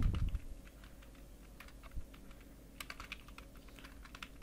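Quick, light clicks of a computer keyboard while entering text fields in CorelDraw, an uneven run of keystrokes at close range with a low hum beneath.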